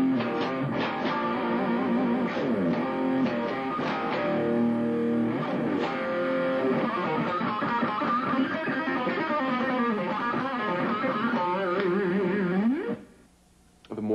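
Distorted electric guitar with DiMarzio pickups, played with fast, clear picking in a continuous loud run of aggressive notes that cuts off abruptly near the end.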